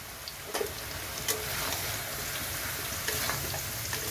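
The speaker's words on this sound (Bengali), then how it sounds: "এখন এটা কষাতে হবে।" Ash gourd (chal kumro) with turmeric frying in a pan: a steady, close hiss of sizzling oil with a few sharp scraping stir clicks, no voices.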